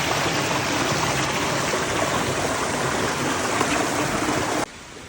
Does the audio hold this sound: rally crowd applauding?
no